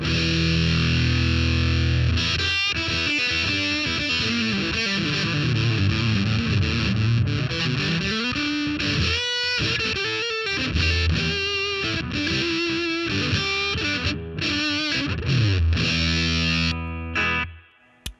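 Heavily distorted electric guitar with a humbucker bridge pickup through a Big Muff fuzz pedal, sustained chords and sliding riffs played loud and continuous before cutting off abruptly.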